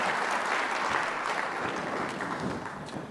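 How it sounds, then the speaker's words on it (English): An audience at an awards broadcast applauds, a steady, loud wash of clapping from a crowd that holds throughout and tapers slightly at the end. "So let's give a round of applause for Mr. Adcock, everyone."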